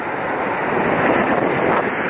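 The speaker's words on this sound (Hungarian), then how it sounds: "Na, megvárjuk, még jön a víz, mindjárt ideér." Sea waves wash up onto a beach shore, a steady rushing surf swelling slightly louder midway, with wind rumbling across the microphone and no speech over it.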